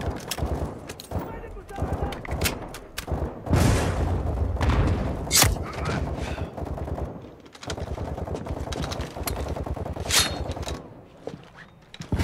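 Rapid gunfire and rocket blasts from the Modern Warfare 2 campaign, dense bursts of shots and heavy thuds at close range, mixed with game voices talking over the combat.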